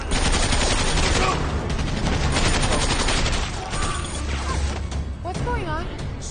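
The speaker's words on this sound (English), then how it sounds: "who's shooting?" Gunfire in an action film, dense bursts of machine-gun fire and crashing impacts rattling continuously, with shouted voices mixed in toward the end.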